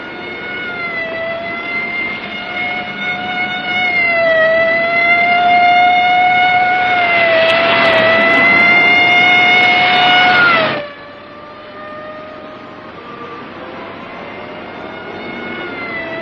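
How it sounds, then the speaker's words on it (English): A police car siren in a 1959 crime drama wails loud and steady, its rising and falling tone over engine rumble, then drops sharply in level partway through and continues quieter. "Lay on the siren. Give it everything."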